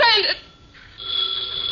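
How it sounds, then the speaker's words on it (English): An old telephone rings in a 1950 NBC radio drama, a steady electric bell tone running on after a brief voice at the start, loud and close. "Her phone had rung almost constantly since I left there, and it was still ringing."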